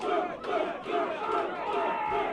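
A crowd at a boxing main event in a gym cheers and roars continuously, loud and sustained, with surges of shouting rising and falling.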